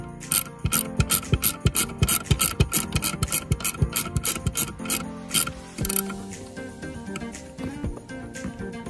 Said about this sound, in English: Then screw it back in. You wanna be using a star tip T50 to get the job done.